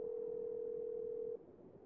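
Telephone tone after a speed dial, a single steady electronic hum held for over a second, then cut off, leaving faint background hiss.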